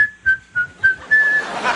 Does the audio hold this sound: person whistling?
yes